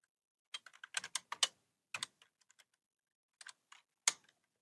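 Code being typed on a computer keyboard: soft, close key clicks in quick bursts separated by short pauses, quiet and alone.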